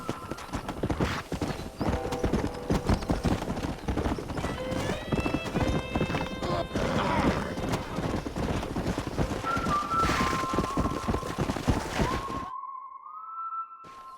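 Horses in the Red Dead Redemption video game clip-clopping in a brisk rhythmic gallop, close and loud, with whistles and a whinny mixed in before the hoofbeats stop and leave a faint tone.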